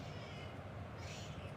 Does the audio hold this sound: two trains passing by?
no